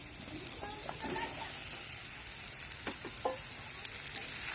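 Ridge gourd pieces dropped into potatoes already frying in light oil, giving a steady soft sizzle and crackle with a few stirring clinks, while a voice murmurs faintly over it.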